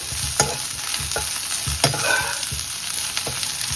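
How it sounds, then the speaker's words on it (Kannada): Okra (bhindi) frying in a pan for a buttermilk curry, a steady close sizzle broken by sharp scraping stirs of a spoon against the pan, with no talking. "ಬೆಂಡೆಕಾಯಿ ಕೂಡ ಚೆನ್ನಾಗಿ ಫ್ರೈ ಆಗಿದೆ"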